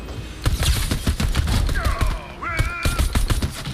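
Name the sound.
pistol gunfire in the video game Fortnite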